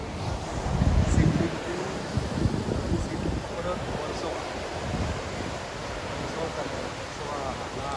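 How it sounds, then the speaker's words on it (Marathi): Sea waves at Bandra Bandstand in Mumbai roll in as a continuous, loud, rumbling wash, swelling near the start and then holding steady, mixed with gusty wind buffeting the microphone. "सुंदर अशा मोठे मोठे लाटा येतात समुद्राच्या पाण्याचा पण आवाज येतो आहे खळ खळ खळ खळ"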